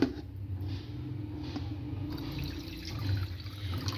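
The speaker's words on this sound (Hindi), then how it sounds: "ये हमने ऐसे ही इसमें पानी गिराई जाना है और इस तरह हमने धोते जाना है" Water is poured over poppy seeds to rinse them, making a steady, close running and splashing sound that lasts throughout, with no voices.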